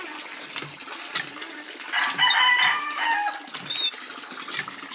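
Cockerels clucking close by, with short harmonic crows and squawks rising over a busy stretch in the middle and some wing-flapping in between.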